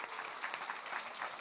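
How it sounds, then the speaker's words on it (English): Steady applause from a seated panel audience, continuous clapping throughout without a break. "give a round of applause"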